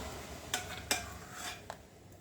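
A spoon knocks and scrapes against a pot while skimming foam off boiling chicken broth for jellied meat, with sharp clinks spaced apart over a quiet background.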